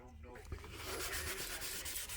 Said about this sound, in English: I think we're going to give it a light sanding.